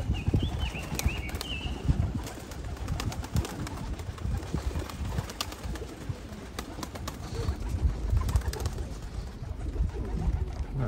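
Racing pigeons coo repeatedly at close range, soft rolling calls continuing throughout alongside occasional wing flaps and rustling.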